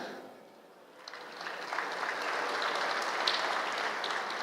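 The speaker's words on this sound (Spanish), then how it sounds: "Aplauso. Los mayores de 40." Audience applause at a 2019 Catholic men's conference, a moderately distant crowd clapping that builds after a brief lull and holds steady to the end.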